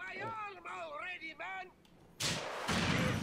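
A rocket launcher fires in Grand Theft Auto IV with a sudden broadband blast, and a second loud explosion follows about half a second later. Speech comes just before the shots.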